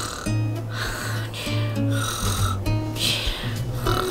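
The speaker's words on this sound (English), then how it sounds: "And she sure can snore." Cartoon-style snoring from a sleeping doll character on an airplane, several loud rhythmic rasping snores repeating every second or so, up close.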